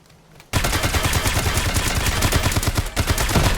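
Sustained full-auto fire from a high-recoil DVG rifle in the video game Dysterra, starting abruptly after a quiet moment and running as a loud, rapid, continuous stream of shots with a brief dip near the end.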